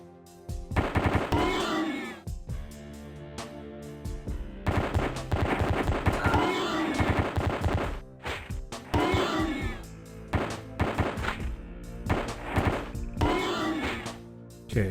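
Rapid bursts of automatic gunfire in the retro first-person shooter Pathways Into Darkness, loud repeated volleys of sharp shots separated by brief pauses.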